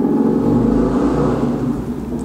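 Motorcycle passing outside, a loud steady engine rumble and whir that fades slightly as it goes, with nothing else heard.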